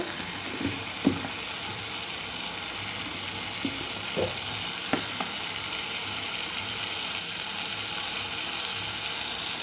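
Ginger paste fries in a pan with a steady close sizzle, broken by a few scraping and clinking stirs against the metal.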